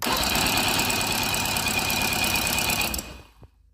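A bass boat engine cranking during a compression check, a steady, loud, rhythmic churning drone with a faint high whine that stops abruptly near the end.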